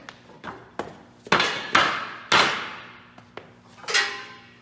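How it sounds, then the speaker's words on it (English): Someone jumps on a cheap, thin metal barbecue stud tube that bends underfoot, producing about eight hollow metallic thumps and clangs at an irregular pace, each ringing briefly and close by, with no talking. "Look how easy this cheap stuff bends. Check this out. I could even jump on it."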